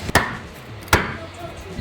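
Two sharp hammer strikes on wood, spaced under a second apart, close and loud with quiet between them.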